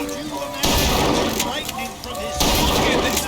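Hip-fire gunshots in a Bioshock Infinite shooting gallery, heavy booming blasts in two loud sustained bursts separated by a lull, with game sounds and a voice mixed underneath.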